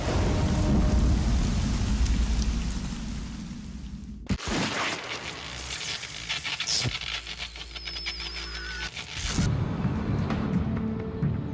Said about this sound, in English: The first heavy rainstorm snuffs the flame for all eternity.